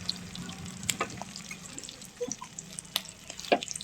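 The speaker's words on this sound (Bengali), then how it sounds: "তারপর আমি পটলগুলো দিয়ে দিচ্ছি। পটলগুলোর গায়ে পুরো তেলটা মাখিয়ে নেব।" Pointed gourd pieces fry in oil in a home kitchen, a faint, quiet sizzle with a few sharp clicks as they are stirred in the pan.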